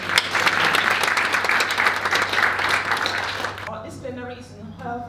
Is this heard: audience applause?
yes